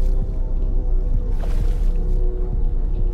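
Wading through water in the Escape the Backrooms video game, soft repeated sloshing and splashing steps close by over a constant low ambient drone.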